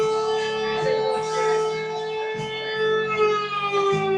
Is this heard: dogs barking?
no